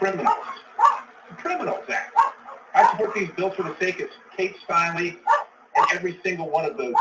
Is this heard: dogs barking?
yes